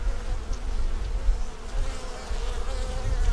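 Honey bees crowd a beehive frame going into winter, their dense, continuous buzzing droning up close and loud, with a low rumble underneath and no talking.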